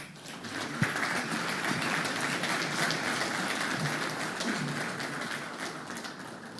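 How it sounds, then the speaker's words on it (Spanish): Audience applause at an authorities' opening panel of a construction industry event in Buenos Aires: sustained, even clapping from a large crowd, steady throughout and slightly distant in a hall. "para quienes pido un fuerte aplauso"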